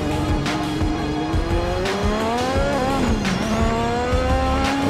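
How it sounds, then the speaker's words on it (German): A Lotus 98T Formula 1 car in Assetto Corsa squealing its tires through a drifting corner, the screech wavering in pitch over a loud, steady engine roar. "Letzte Kurve ein bisschen im Drift nehmen hier"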